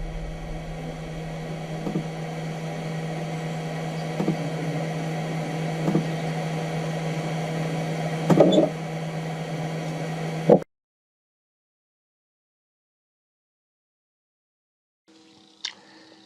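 A 3018 CNC machine cutting an area clearance toolpath hums with a steady motor tone and soft periodic clicks for about ten seconds, then stops abruptly into silence before a faint brief sound near the end.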